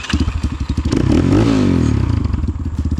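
An RXB 250L trail motorcycle starts with a quick crank and catches at once, then settles into a loud, close, choppy idle with a brief rev in the middle.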